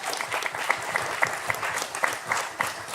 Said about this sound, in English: Give Miguel a round of applause.